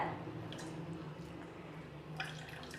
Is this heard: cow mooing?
no